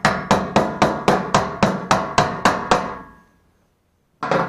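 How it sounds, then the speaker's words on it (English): A brass hammer taps a fuel tank sending unit lock ring on a 1964 Ford Falcon, with ten sharp metallic strikes in a steady rhythm, then a pause and one final tap. The strikes are close and loud. "You take your little hammer, or brass hammer,"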